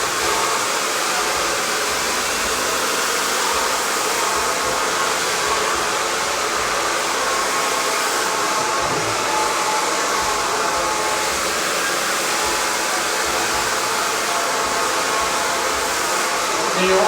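A hair dryer blows continuously while drying hair at home, a loud, steady airflow whoosh with a constant motor hum that holds the same level throughout.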